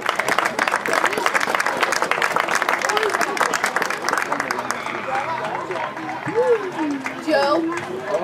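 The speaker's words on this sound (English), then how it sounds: "Nice round of applause for number two, Leanne Price." A crowd at a girls' high school game claps for player number two, Leanne Price, fairly loud applause at first that thins out while voices and chatter take over.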